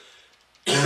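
A single harsh cough bursts out after near silence, loud and close, with faint murmuring before it, during a Wii Sports Resort speedrun.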